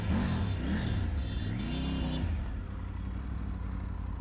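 A Triumph Tiger 900 Rally Pro motorcycle engine, revved on the throttle in a couple of rising and falling blips, loud and close, that then settles back to a steady idle.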